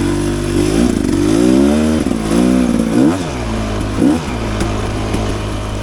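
Rieju Ranger 300 dirt bike fitted with an FMF Gnarly exhaust, ridden up a wet trail: a close, loud two-stroke engine revving and dropping repeatedly, with rising and falling pitch sweeps and throttle blips throughout, no talk.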